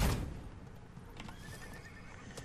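A horse mount in the video game Realm Royale gives a loud whinny at the start, followed by softer hoof clip-clops and faint game sounds over a couple of seconds.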